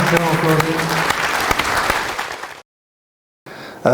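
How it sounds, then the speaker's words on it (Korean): Warm burst of audience applause at a council meeting in a Seoul hall, steady and close for over two seconds, then a sudden cut to silence before the room noise returns. "큰 박수 부탁드립니다"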